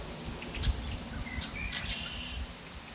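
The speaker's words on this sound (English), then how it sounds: "We can just listen to the birds here." Several short, bright bird chirps come from a few songbirds outdoors on a cool fall day in Michigan, heard at a moderate distance over a quiet, steady background hum.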